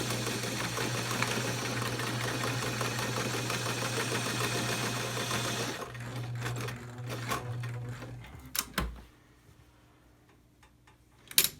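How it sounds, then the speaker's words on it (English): A sewing machine runs steadily for several seconds, stitching around the edge of a pleated fabric face mask, then stops, followed by a few handling clicks and knocks close by. "we are going to take it back to the sewing machine and sew around the edge of the entire mask"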